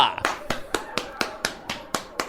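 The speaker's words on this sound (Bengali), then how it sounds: "তালিয়া" Children clap in a radio-drama scene of a ceremony honouring notable people, about nine sharp, evenly spaced claps in a steady rhythm, close and clear.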